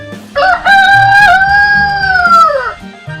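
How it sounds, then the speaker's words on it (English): A rooster gives one loud, close cock-a-doodle-doo crow, rising sharply and holding a long quavering tail before trailing off, with brief clucks around it. "Rooster."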